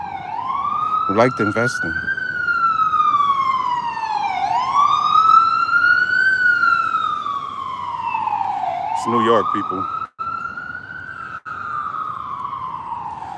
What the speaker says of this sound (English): sirens is going crazy.